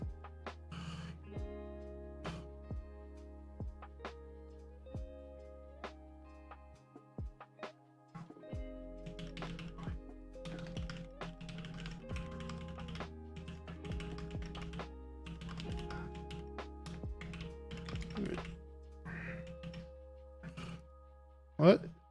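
Scattered mechanical keyboard clicks and key taps from a Primus75 with NK Cream frankenswitches and GMK Dracula keycaps, over soft background music, with a voice talking at times.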